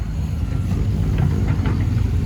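A Sumitomo 130 excavator's engine runs at a worksite, a loud, steady low diesel drone with some faint higher clanks and rattles mixed in toward the end.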